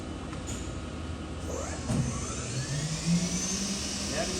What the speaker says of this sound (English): the preceding video is a YCM NXV 1020A CNC vertical machining center